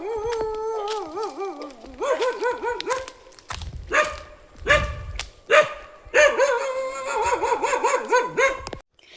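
A dog barks and howls in repeated bursts, loud and close, with whimpering, yelping calls rising and falling between barks and no talk over it.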